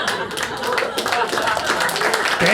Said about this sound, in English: Thank you, no clapping.